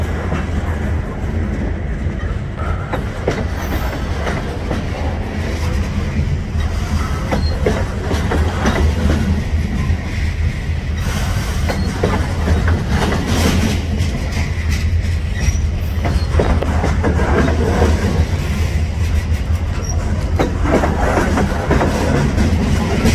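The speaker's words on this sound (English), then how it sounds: "Boxcars loaded. 10 years ago, I could catch that." A loaded freight train of boxcars rolls past close by, a steady heavy rumble with clattering wheels and faint squeals that holds for the whole stretch without a break.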